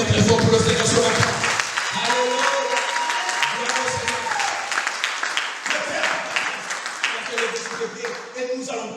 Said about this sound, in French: Est-ce que tu peux acclamer très fort pour le Seigneur ce matin?